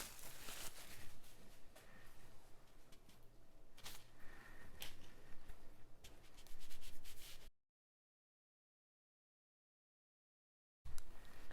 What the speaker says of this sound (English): now we're just going to roll it out on a piece of parchment